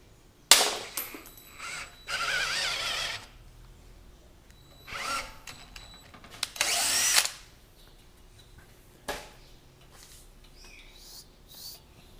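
A final tap cuts a screw thread into metal during a motorcycle chain kit repair, heard as several loud grinding bursts of uneven length separated by quiet pauses, with a few sharp clicks between them.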